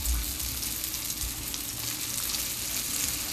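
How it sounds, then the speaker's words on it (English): Breaded vegan beef cutlets fry in oil in a pot, giving a steady, even sizzle and crackle at moderate volume with no talk. "As you can see, we're browning these up absolutely beautifully."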